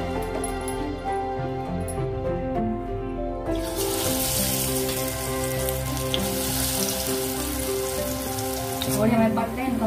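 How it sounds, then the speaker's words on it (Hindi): Mung dal fritters with spinach and long bean seeds sizzle steadily in hot mustard oil, a dense broadband hiss and crackle that swells and stays loud and close, with a faint voice and some tonal background sound underneath. "तेल गरम हो गए, मंगौड़े हम सरसों तेल से निकालेंगे।"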